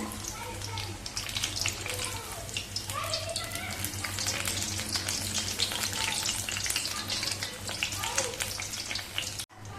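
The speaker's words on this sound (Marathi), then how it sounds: "आता मिनिटभर एका बाजूने छान असे कटलेट आपल्याला तळून घ्यायचे" Vegetable cutlets frying in a pan of oil give a continuous bubbling sizzle up close, with faint scraping and a low hum underneath, no talk heard.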